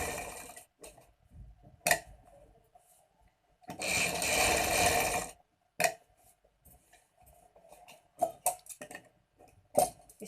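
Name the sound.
sewing machine stitching fabric for a kaftan dress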